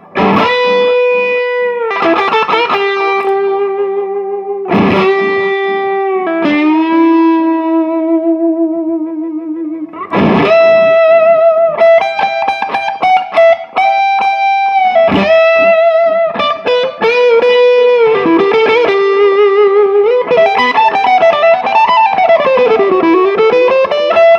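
Smooth, low-gain electric guitar lines run through a Bob Burt Multi-Drive distortion pedal with delay, held notes and bends trailing echoes, loud and continuous with no voices.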